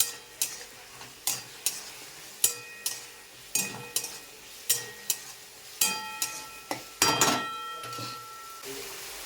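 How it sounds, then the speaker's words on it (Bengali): A ginger, garlic, onion and tomato spice paste is stir-fried, with a regular series of sharp metal spatula taps and scrapes on the pan over a low sizzle, close and without talk. "এটাই ভালো করে কষিয়ে নেবো মশলাটাকে।"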